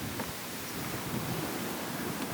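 Sea waves on the Albanian coast after two days of storms, a continuous broad wash of surf mixed with wind noise, steady and fairly faint throughout.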